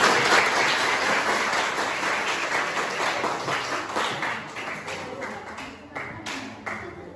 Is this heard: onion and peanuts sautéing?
no